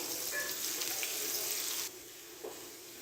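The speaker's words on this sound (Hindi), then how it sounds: "प्याज फ्राई करने के बाद लहसुन अदरक का पेस्ट ऐड करेंगे 1 टेबल स्पून" Ginger garlic paste sizzles with onions in a pan, a bright steady hiss that suddenly drops to a softer sputter, with a small stir or clink near the end.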